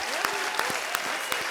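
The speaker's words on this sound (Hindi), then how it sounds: "तो जोरदार तालियां" Studio audience applause at a Hindi comedy show, a steady wash of clapping with a few sharper claps standing out, filling the whole moment without speech.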